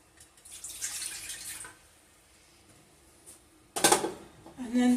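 A cup of water is poured into a Zojirushi Supreme bread maker pan while whole wheat bread is being prepared: a short splashing pour early on, then a louder, brief burst of water near the end, in a quiet kitchen.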